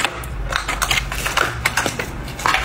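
A plastic packet of hotpot seasoning is torn and crumpled open up close, giving a run of crisp crinkling and crackling bursts that rise and fall unevenly.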